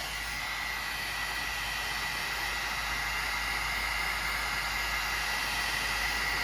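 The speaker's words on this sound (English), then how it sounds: "I'm constantly moving my heat gun around." A heat gun blows steadily while embossing powder is melted on vellum, a continuous loud airy whoosh with a faint high whine that holds unchanged throughout, with no voices.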